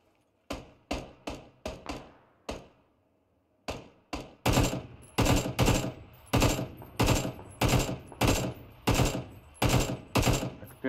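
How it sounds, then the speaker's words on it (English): Gunfire in PUBG: a burst of spaced single shots, a pause, then a steady run of loud, evenly timed rifle shots, close and punchy with no talk over them. "Couldn't get any more shots off at him."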